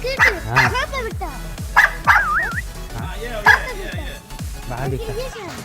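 A small dog outdoors gives a rapid series of high yips and barks with whimpering, close and loud, with people's voices mixed in around it.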